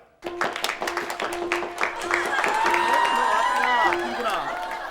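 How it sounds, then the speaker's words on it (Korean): Crowd applause greets a bride walking in at a Korean wedding ceremony. The clapping begins abruptly and holds steady and fairly loud, with tonal music or voices rising over it. "모두 뜨거운 박수로 맞이해 주시면 정말로 감사의 말씀을 드리겠습니다"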